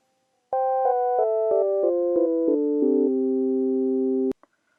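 A synthesizer oscillator plays a clean electronic tone that steps down in pitch through a series of even notes, then stops with a brief click, alone and loud.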